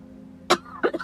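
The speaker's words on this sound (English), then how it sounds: "She said that she needs to cough." A female character in the video game Enshrouded coughs, one sharp cough followed moments later by a quick double cough, clear and close against a quiet background.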